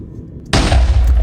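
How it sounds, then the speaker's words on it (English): A Minecraft explosion in the Nether goes off as one sudden, loud blast, followed by a heavy rumbling tail that fills the rest of the moment. "The explosions are just, like, a little bit bigger."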